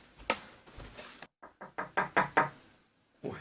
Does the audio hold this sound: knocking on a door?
yes